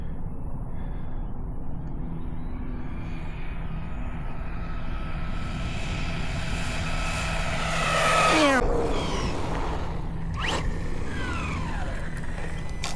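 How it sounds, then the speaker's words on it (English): A Traxxas Jato RC car running on a 3S battery spins its tires, giving a steady motor whine with a rising, sweeping pitch burst near the middle, heard up close and without talk. "it still spins the tires, but it's way easy."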